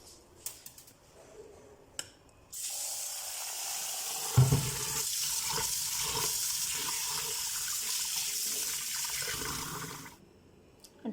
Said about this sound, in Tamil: தூர் தால். இது நம்ம வாஷ் பண்ணிக்கலாம்.